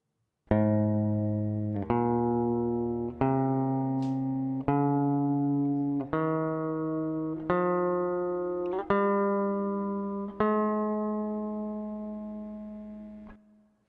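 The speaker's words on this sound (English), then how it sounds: "This is the major scale." Eight sustained notes climb step by step in an ascending major scale, each plucked or struck clearly, with no voices.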